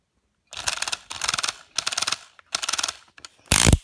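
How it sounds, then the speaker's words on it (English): A Panasonic EY7950 18V cordless drill in clutch mode slips over and over, giving five short, loud, close ratcheting bursts of rapid clicking separated by brief pauses, with no talk. "If we go to clutch mode,"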